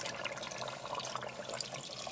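Water poured into a pot of lamb curry with big potato pieces, a soft continuous splashing and trickling, faint and close, with no one talking.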